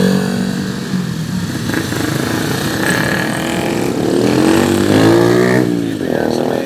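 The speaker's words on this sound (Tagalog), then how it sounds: "Traffic masyado" Gridlocked road traffic of motorcycles and cars beside an overturned dump truck: close engines idling and revving in rising and falling swells, a steady loud rumble with some voices mixed in.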